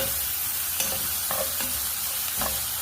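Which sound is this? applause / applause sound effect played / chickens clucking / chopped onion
chopped onion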